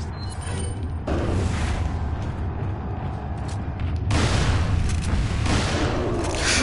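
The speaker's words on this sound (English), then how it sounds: "shotgun this time." Shotgun blasts in the Resident Evil 4 video game: two heavy booming shots, one at about a second in and another a few seconds later, each followed by a lingering rumble over a low game background.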